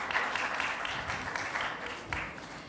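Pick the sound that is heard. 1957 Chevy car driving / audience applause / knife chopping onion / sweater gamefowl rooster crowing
audience applause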